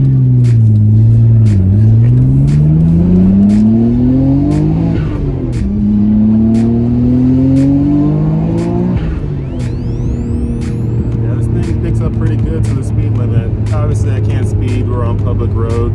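Nissan R32 Skyline GTR accelerating on a public road, engine and exhaust note climbing in pitch through several gear pulls, a brief dip at each shift, loud and steady from inside the car with talk over it.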